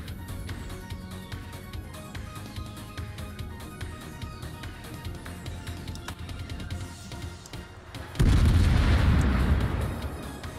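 Naval guns fire in a World of Warships ranked battle. Steady rumbling bursts and booms run throughout, then a much louder close-up salvo erupts near the end and slowly fades.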